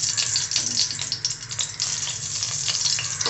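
Ghee and Dalda heat in a pan before garlic goes in for homemade wheat noodles, giving a loud, continuous hissing sizzle close up, with steady crackle and no voices.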